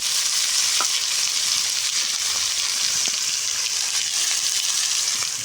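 Sliced onions and garlic paste fry in hot oil in a pan for a thin snakehead fish curry, giving a loud, continuous, close sizzle with a few faint clicks beneath it.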